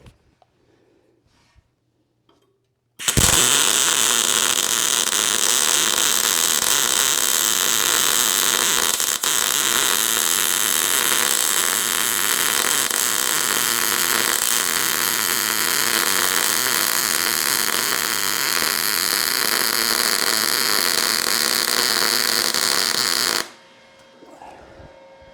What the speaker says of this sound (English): Now let me turn the machine down a little bit and hit this thinner stuff.